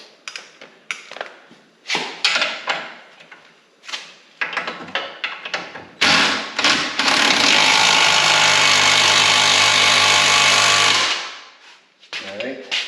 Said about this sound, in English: So we're going to tighten the bars.